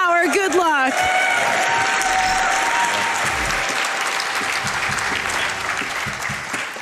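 Live audience at a speedrunning marathon event bursts into sustained applause that fills the room, steady clapping continuing for several seconds after a brief voice at the start.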